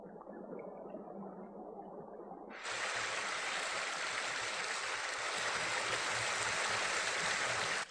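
A stream flows steadily throughout, with a soft low babble at first that swells into a louder, bright rushing wash after a few seconds and keeps going without pause.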